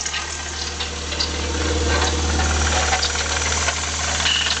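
Toyota MR2 Turbo engine running with a steady grinding noise from the turbo, loud and continuous under a constant low hum.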